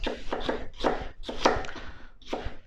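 Onions being sliced with a knife on a cutting board, a run of quick crisp chopping strokes in bursts with short pauses, close and clear with no talking.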